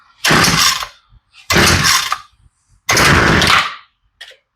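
Three long, loud rasping pulls start a Homelite weedeater's engine on full choke, each lasting about a second with quiet gaps between, followed by a brief faint rattle at the end.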